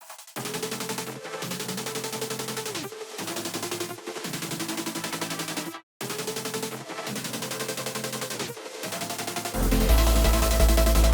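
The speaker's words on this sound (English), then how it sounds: "I could use Shaper Box to generate random sounds to layer on top of the synths" Random Shaper Box effect sounds are layered over drum and bass drop synths, with hard rhythmic gated bursts chopping on and off in a loud, dense pattern that swells fuller at the end.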